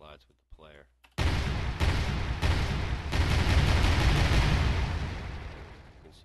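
Projectiles detonate on impact against player collision capsules in an Unreal Engine 4 shooter test, a loud, dense rumbling burst of explosions after a brief quiet voice, with several sharp onsets across about five seconds that slowly fade.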